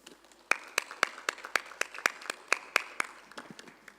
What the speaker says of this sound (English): A big round of applause for Dr. Chetty.